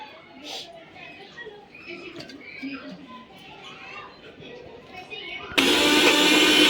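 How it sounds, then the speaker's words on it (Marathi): People talk quietly over a faint background, then a mixer grinder roars on loudly near the end, grinding cooked chicken into mince steadily and close by. "तर आपण मिक्सरला लावून घेऊया"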